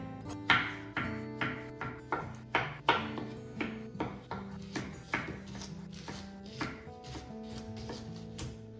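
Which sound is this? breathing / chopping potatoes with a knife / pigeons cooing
chopping potatoes with a knife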